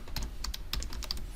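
Rapid typing on a computer keyboard, a close run of uneven key clacks with brief pauses, heard alone with no talk.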